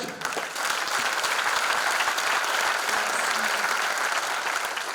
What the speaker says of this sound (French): pour qui nous applaudissons très fort, l'abbé Alphonse Sec